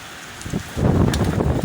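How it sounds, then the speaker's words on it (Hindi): Very heavy rain pouring down outdoors, a dense rushing wash that starts softer and swells louder midway, staying close and constant to the end. "बड़ी तेज़ बारिश हो रही है।"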